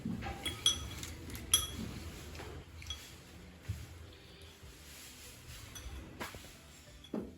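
Curry plates and dishes being cleared aside on a home dining table, giving a few sharp clinks and clatters of crockery and cutlery near the start and end, with quieter shuffling between.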